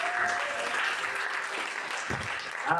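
A church congregation claps during a worship service, a brief burst of steady, moderately loud applause with a few stray voices underneath.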